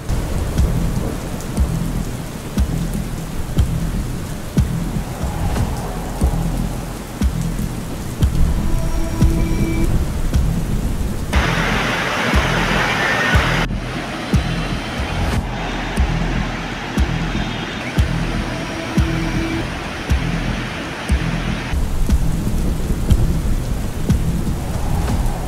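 Heavy monsoon downpour with thunder over Nagpur in Vidarbha during an orange alert: a dense, continuous roar of rain on surfaces with deep rumbling underneath, steady throughout and without voices.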